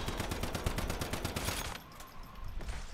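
Gunfire in the video game Once Human, a fast burst of evenly spaced rapid shots for about a second and a half, then quieter scattered impacts and game sounds, with no talking.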